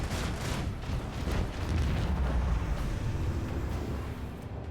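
Macro cannons firing a volley in the video game Rogue Trader, heard as a dense, continuous roar of heavy booming blasts that swells and holds loud for several seconds before easing slightly.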